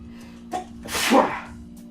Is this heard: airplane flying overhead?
no